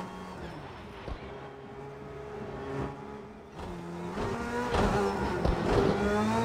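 A car slides on snow in a sim racing game, its engine revving up and down in uneven surges with whirring drivetrain noise, growing louder and busier toward the end.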